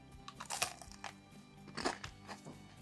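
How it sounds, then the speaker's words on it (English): Someone eats crunchy buffalo chicken snacks, with quiet, close crunching bites and chewing in irregular bursts. "They're crunchy."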